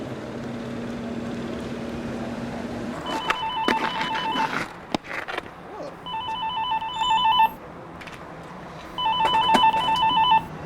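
A telephone rings in three repeated bursts of electronic trilling, loud and close, after a low mechanical hum fades out, with brief clatter in between and no talk.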